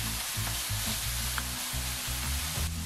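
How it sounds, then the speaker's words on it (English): Chopped mushrooms fry in a pan while being stirred, giving a steady hiss with soft rhythmic scraping and clunking of a utensil against the pan throughout. "I'm going to add in my mushrooms, which I've just chopped up, and I'm going to give that a bit of a stir as well"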